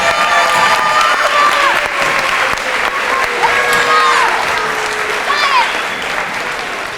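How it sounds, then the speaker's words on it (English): Steady applause from a crowd at a middle school small ensemble concert fills the whole stretch, with scattered cheers and shouts rising over the clapping, fading slightly toward the end. "Can we get another round of applause for all the small ensembles?"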